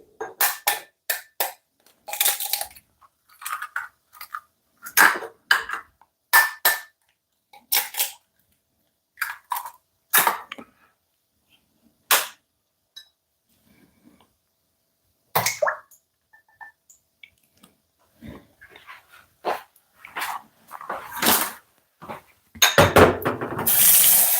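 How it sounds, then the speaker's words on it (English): Milk and an egg go into a container for crepe-style pancake batter: scattered clinks and knocks of kitchenware, with quiet gaps between them and a brief liquid pour near the end. "I'm going to put the milk and the egg straight inside this"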